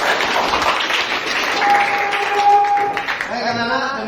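Classroom applause for a student returning to his seat, a steady wash of many hands clapping that runs throughout, and a teacher's voice comes in faintly near the end.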